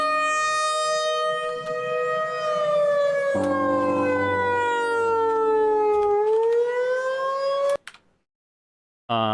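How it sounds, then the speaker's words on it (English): A simulated tornado siren modeled on a Federal Signal unit wails loudly and steadily for about eight seconds, its pitch dipping and rising again before cutting off abruptly into silence. "based off of a model of actual, like, federal signal tornado siren"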